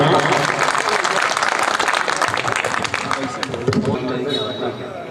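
Warm applause from the audience at a poetry gathering welcoming a guest poet, dense clapping that gradually thins out, with voices faintly present beneath it.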